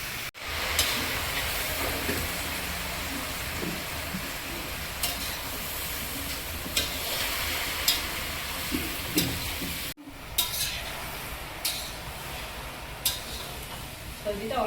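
Taro leaves are tossed into a wok with whole cumin and crushed garlic, then fried and stirred. A dense, close hiss of frying carries periodic clatters from stirring and is briefly cut off near the end.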